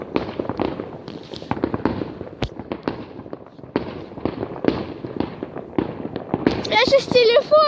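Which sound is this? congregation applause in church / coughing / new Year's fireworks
new Year's fireworks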